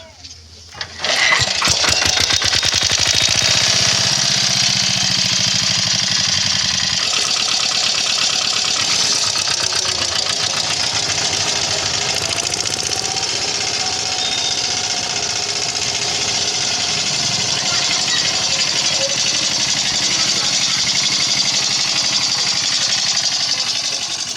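An old, museum-piece engine on a small island is started with a pull rope, catches after a brief rough start, and then runs loudly and steadily up close for over twenty seconds.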